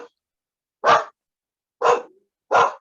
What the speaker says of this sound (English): My dogs have heard something.